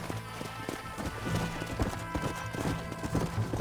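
In a Western video game, several horses gallop nearby with a fast, rhythmic clip-clop of hooves that stays loud and continuous throughout, with faint background voices underneath.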